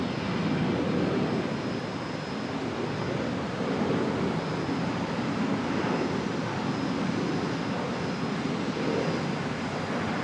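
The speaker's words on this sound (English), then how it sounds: "the all-white Embraer now heading off" An all-white Embraer jet departing at Brisbane Airport at dusk, a steady broad roar heard at a distance with an even, unbroken engine rumble throughout.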